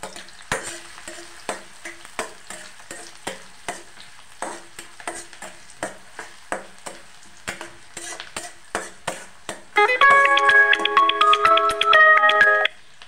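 Onions frying in a pan are stirred with a spatula in a steady run of sharp scraping strokes over a light sizzle, before a loud electronic ringtone melody cuts in near the end.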